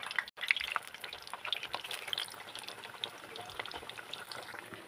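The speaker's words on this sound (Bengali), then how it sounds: "এক এক করে আমি পিঠাগুলো সব দিয়ে দেবো তেলের মধ্যে" Mukh pakon pitha cakes frying in hot oil, a faint continuous bubbling sizzle with scattered crackles and drips, close but quiet, with no voices.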